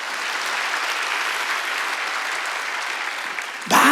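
A church congregation at a Wednesday worship service breaks into dense, steady applause that holds evenly for several seconds before a sudden louder burst at the end.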